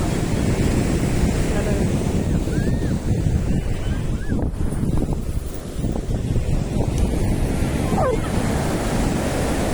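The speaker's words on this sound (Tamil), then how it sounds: "பெரிய அலையை பாருங்கள், அதை பாருங்கள் அலையை" Ocean waves surge and crash near a lighthouse by the shore, a loud continuous roar mixed with heavy wind buffeting the microphone, with faint voices in the background.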